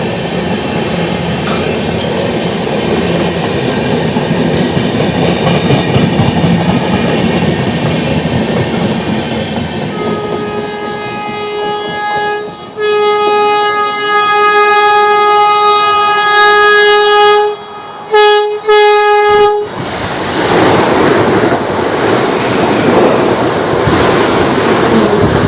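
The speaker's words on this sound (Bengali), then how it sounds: "তোমাদেরকে দেখালাম হাওড়া রৌরকেল্লা বন্দে ভারতের ওভারটেক" A Howrah–Rourkela Vande Bharat express overtaking, heard from aboard a MEMU train: steady loud rumble and rattle, then a long sustained two-tone horn blast lasting nearly ten seconds with brief breaks, before the rolling clatter resumes.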